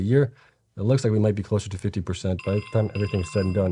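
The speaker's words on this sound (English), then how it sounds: "That is my phone going off" A mobile phone ringer chimes with a steady electronic tone in the latter half, heard under a man's continuous close speech.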